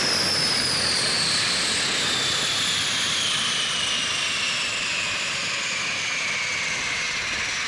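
Convair 580 turboprop engines spooling down at shutdown, a steady loud roar with a high whine that slowly falls in pitch, heard from the cockpit on a snowy ramp.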